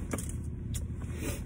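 Steady low road rumble inside a moving car, a continuous dense hum with faint higher rattles and no voices.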